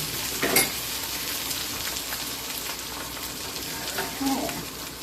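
Eggs frying in a stainless steel pan give a steady, hissing sizzle throughout, close up, with a couple of brief scrapes or taps and no talking.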